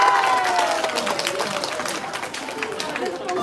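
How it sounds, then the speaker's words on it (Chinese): An audience at a temple market event in Sanchong applauds after a song, giving a scattered, moderately loud clapping that holds steady as a voice speaks over it. "掌声。谢谢谢谢。"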